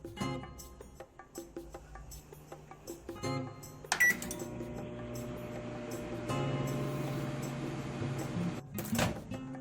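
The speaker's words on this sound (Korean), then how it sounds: "전자레인지 6분 돌려주세요." A microwave oven running while ramen cooks in hot water under a porcelain plate lid, a steady low hum with mechanical clicks and rattles that grows slightly louder partway through, with no talking.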